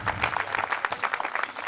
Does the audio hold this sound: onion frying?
no